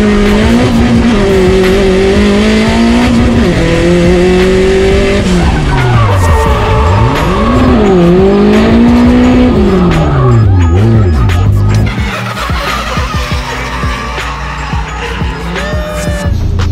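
A 1JZ-powered drift car at a night drift event at Apple Valley Speedway roars close up during a ride-along, its engine note rising and falling as the tires squeal and skid for long stretches, with a voice reacting under the noise.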